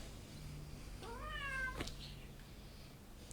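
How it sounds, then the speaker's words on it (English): A cat gives a single rising-and-falling meow, clear and close, lasting under a second against a quiet room with a faint steady hum. "Cats."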